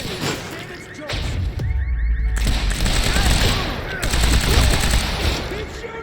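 Rapid bursts of automatic gunfire and single shots in the Quantum Break video game, loud and close, with booming impacts and shouted voices over the shooting.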